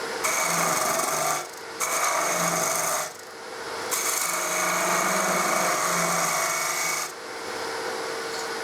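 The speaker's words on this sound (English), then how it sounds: "Now the next section involves scooping out a flat piece." Woodturning spindle gouge scooping out a flat section of a piece spinning on a lathe, loud scraping and rasping cuts in several long passes separated by brief pauses.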